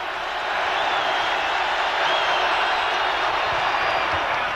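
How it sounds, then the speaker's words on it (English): A basketball arena crowd at a Kings vs Timberwolves playoff game roars loudly and continuously, a dense wall of cheering and noise that swells slightly and holds steady throughout. "Sprewell urging the crowd on to make ever more noise"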